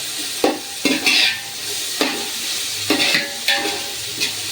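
Mint leaves and onion fry in a pot for chicken biryani while a spoon stirs them. A steady loud sizzle is broken by repeated scraping stirs against the pot, and no one speaks.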